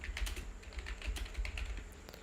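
Computer keyboard keys clatter in quick, steady bursts of close typing while a narration line is entered in Tally Prime accounting software, with no voices.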